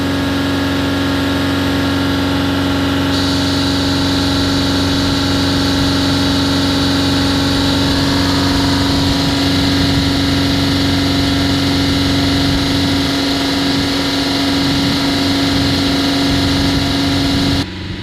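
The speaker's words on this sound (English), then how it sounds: "engine RPM back up around 2800 RPM" A Nissan Navara V6 diesel engine runs steadily at about 2800 RPM, a loud, constant mechanical drone with a strong hum and vibration that holds unchanged throughout, no voices.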